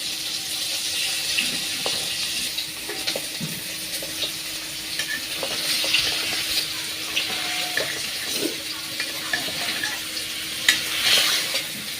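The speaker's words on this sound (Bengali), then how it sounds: "মাংসটা এখন একটু কষাই নেই।" Meat is stir-fried in a cooked-down spice masala, a steady close sizzle with scraping and stirring clatter throughout, no talking.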